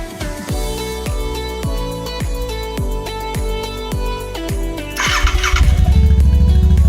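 A Royal Enfield Continental GT 650 motorcycle engine cranks over with a rapid, rhythmic starter chug lasting several seconds, then fires and settles into a loud, rumbling idle close by.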